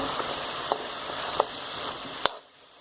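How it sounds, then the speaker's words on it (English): Stewed pork stir-frying with its ingredients gives a steady, close sizzle, broken by a few sharp ticks of stirring before the sound cuts off near the end. "I wanted to kind of stir fry it first with all the ingredients"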